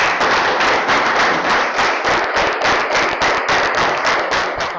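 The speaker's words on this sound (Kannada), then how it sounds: "ಈಗ ಶಿವಮೊಗ್ಗದ ನಟವಕಿನ ದೊರೆ ಸುರೇಶ್ ಅವರನ್ನು ಚಪ್ಪಾಳೆ ಮೂಲಕ ಬರಮಾಡಿಕೊಳ್ಳೋಣ." An audience at a farming training session claps to welcome a speaker, sharp rhythmic hand claps in quick, fairly even succession, loud and close, with no talking.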